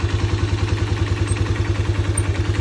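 A Musstang Region 150 motorcycle engine idles steadily and smoothly at close range, a regular low thudding pulse with light mechanical clatter, running alone without talk.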